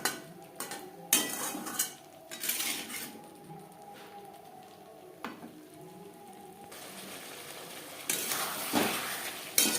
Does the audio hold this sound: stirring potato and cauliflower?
yes